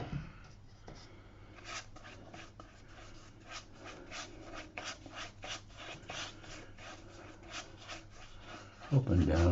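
Brush strokes applying a light wash of plain water across watercolour paper, soft scratchy up-and-down swipes repeating in a quick rhythm, close and quiet, with a brief bump near the end.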